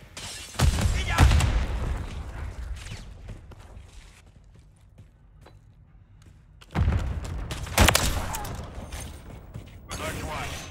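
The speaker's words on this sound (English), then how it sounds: "Throwing grenade!" Gunfire and a grenade blast in Call of Duty: Modern Warfare III on the map Terminal, loud bursts of shooting with a heavy boom, a quieter lull in the middle, then more close firing.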